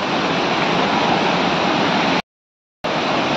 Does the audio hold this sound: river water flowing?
yes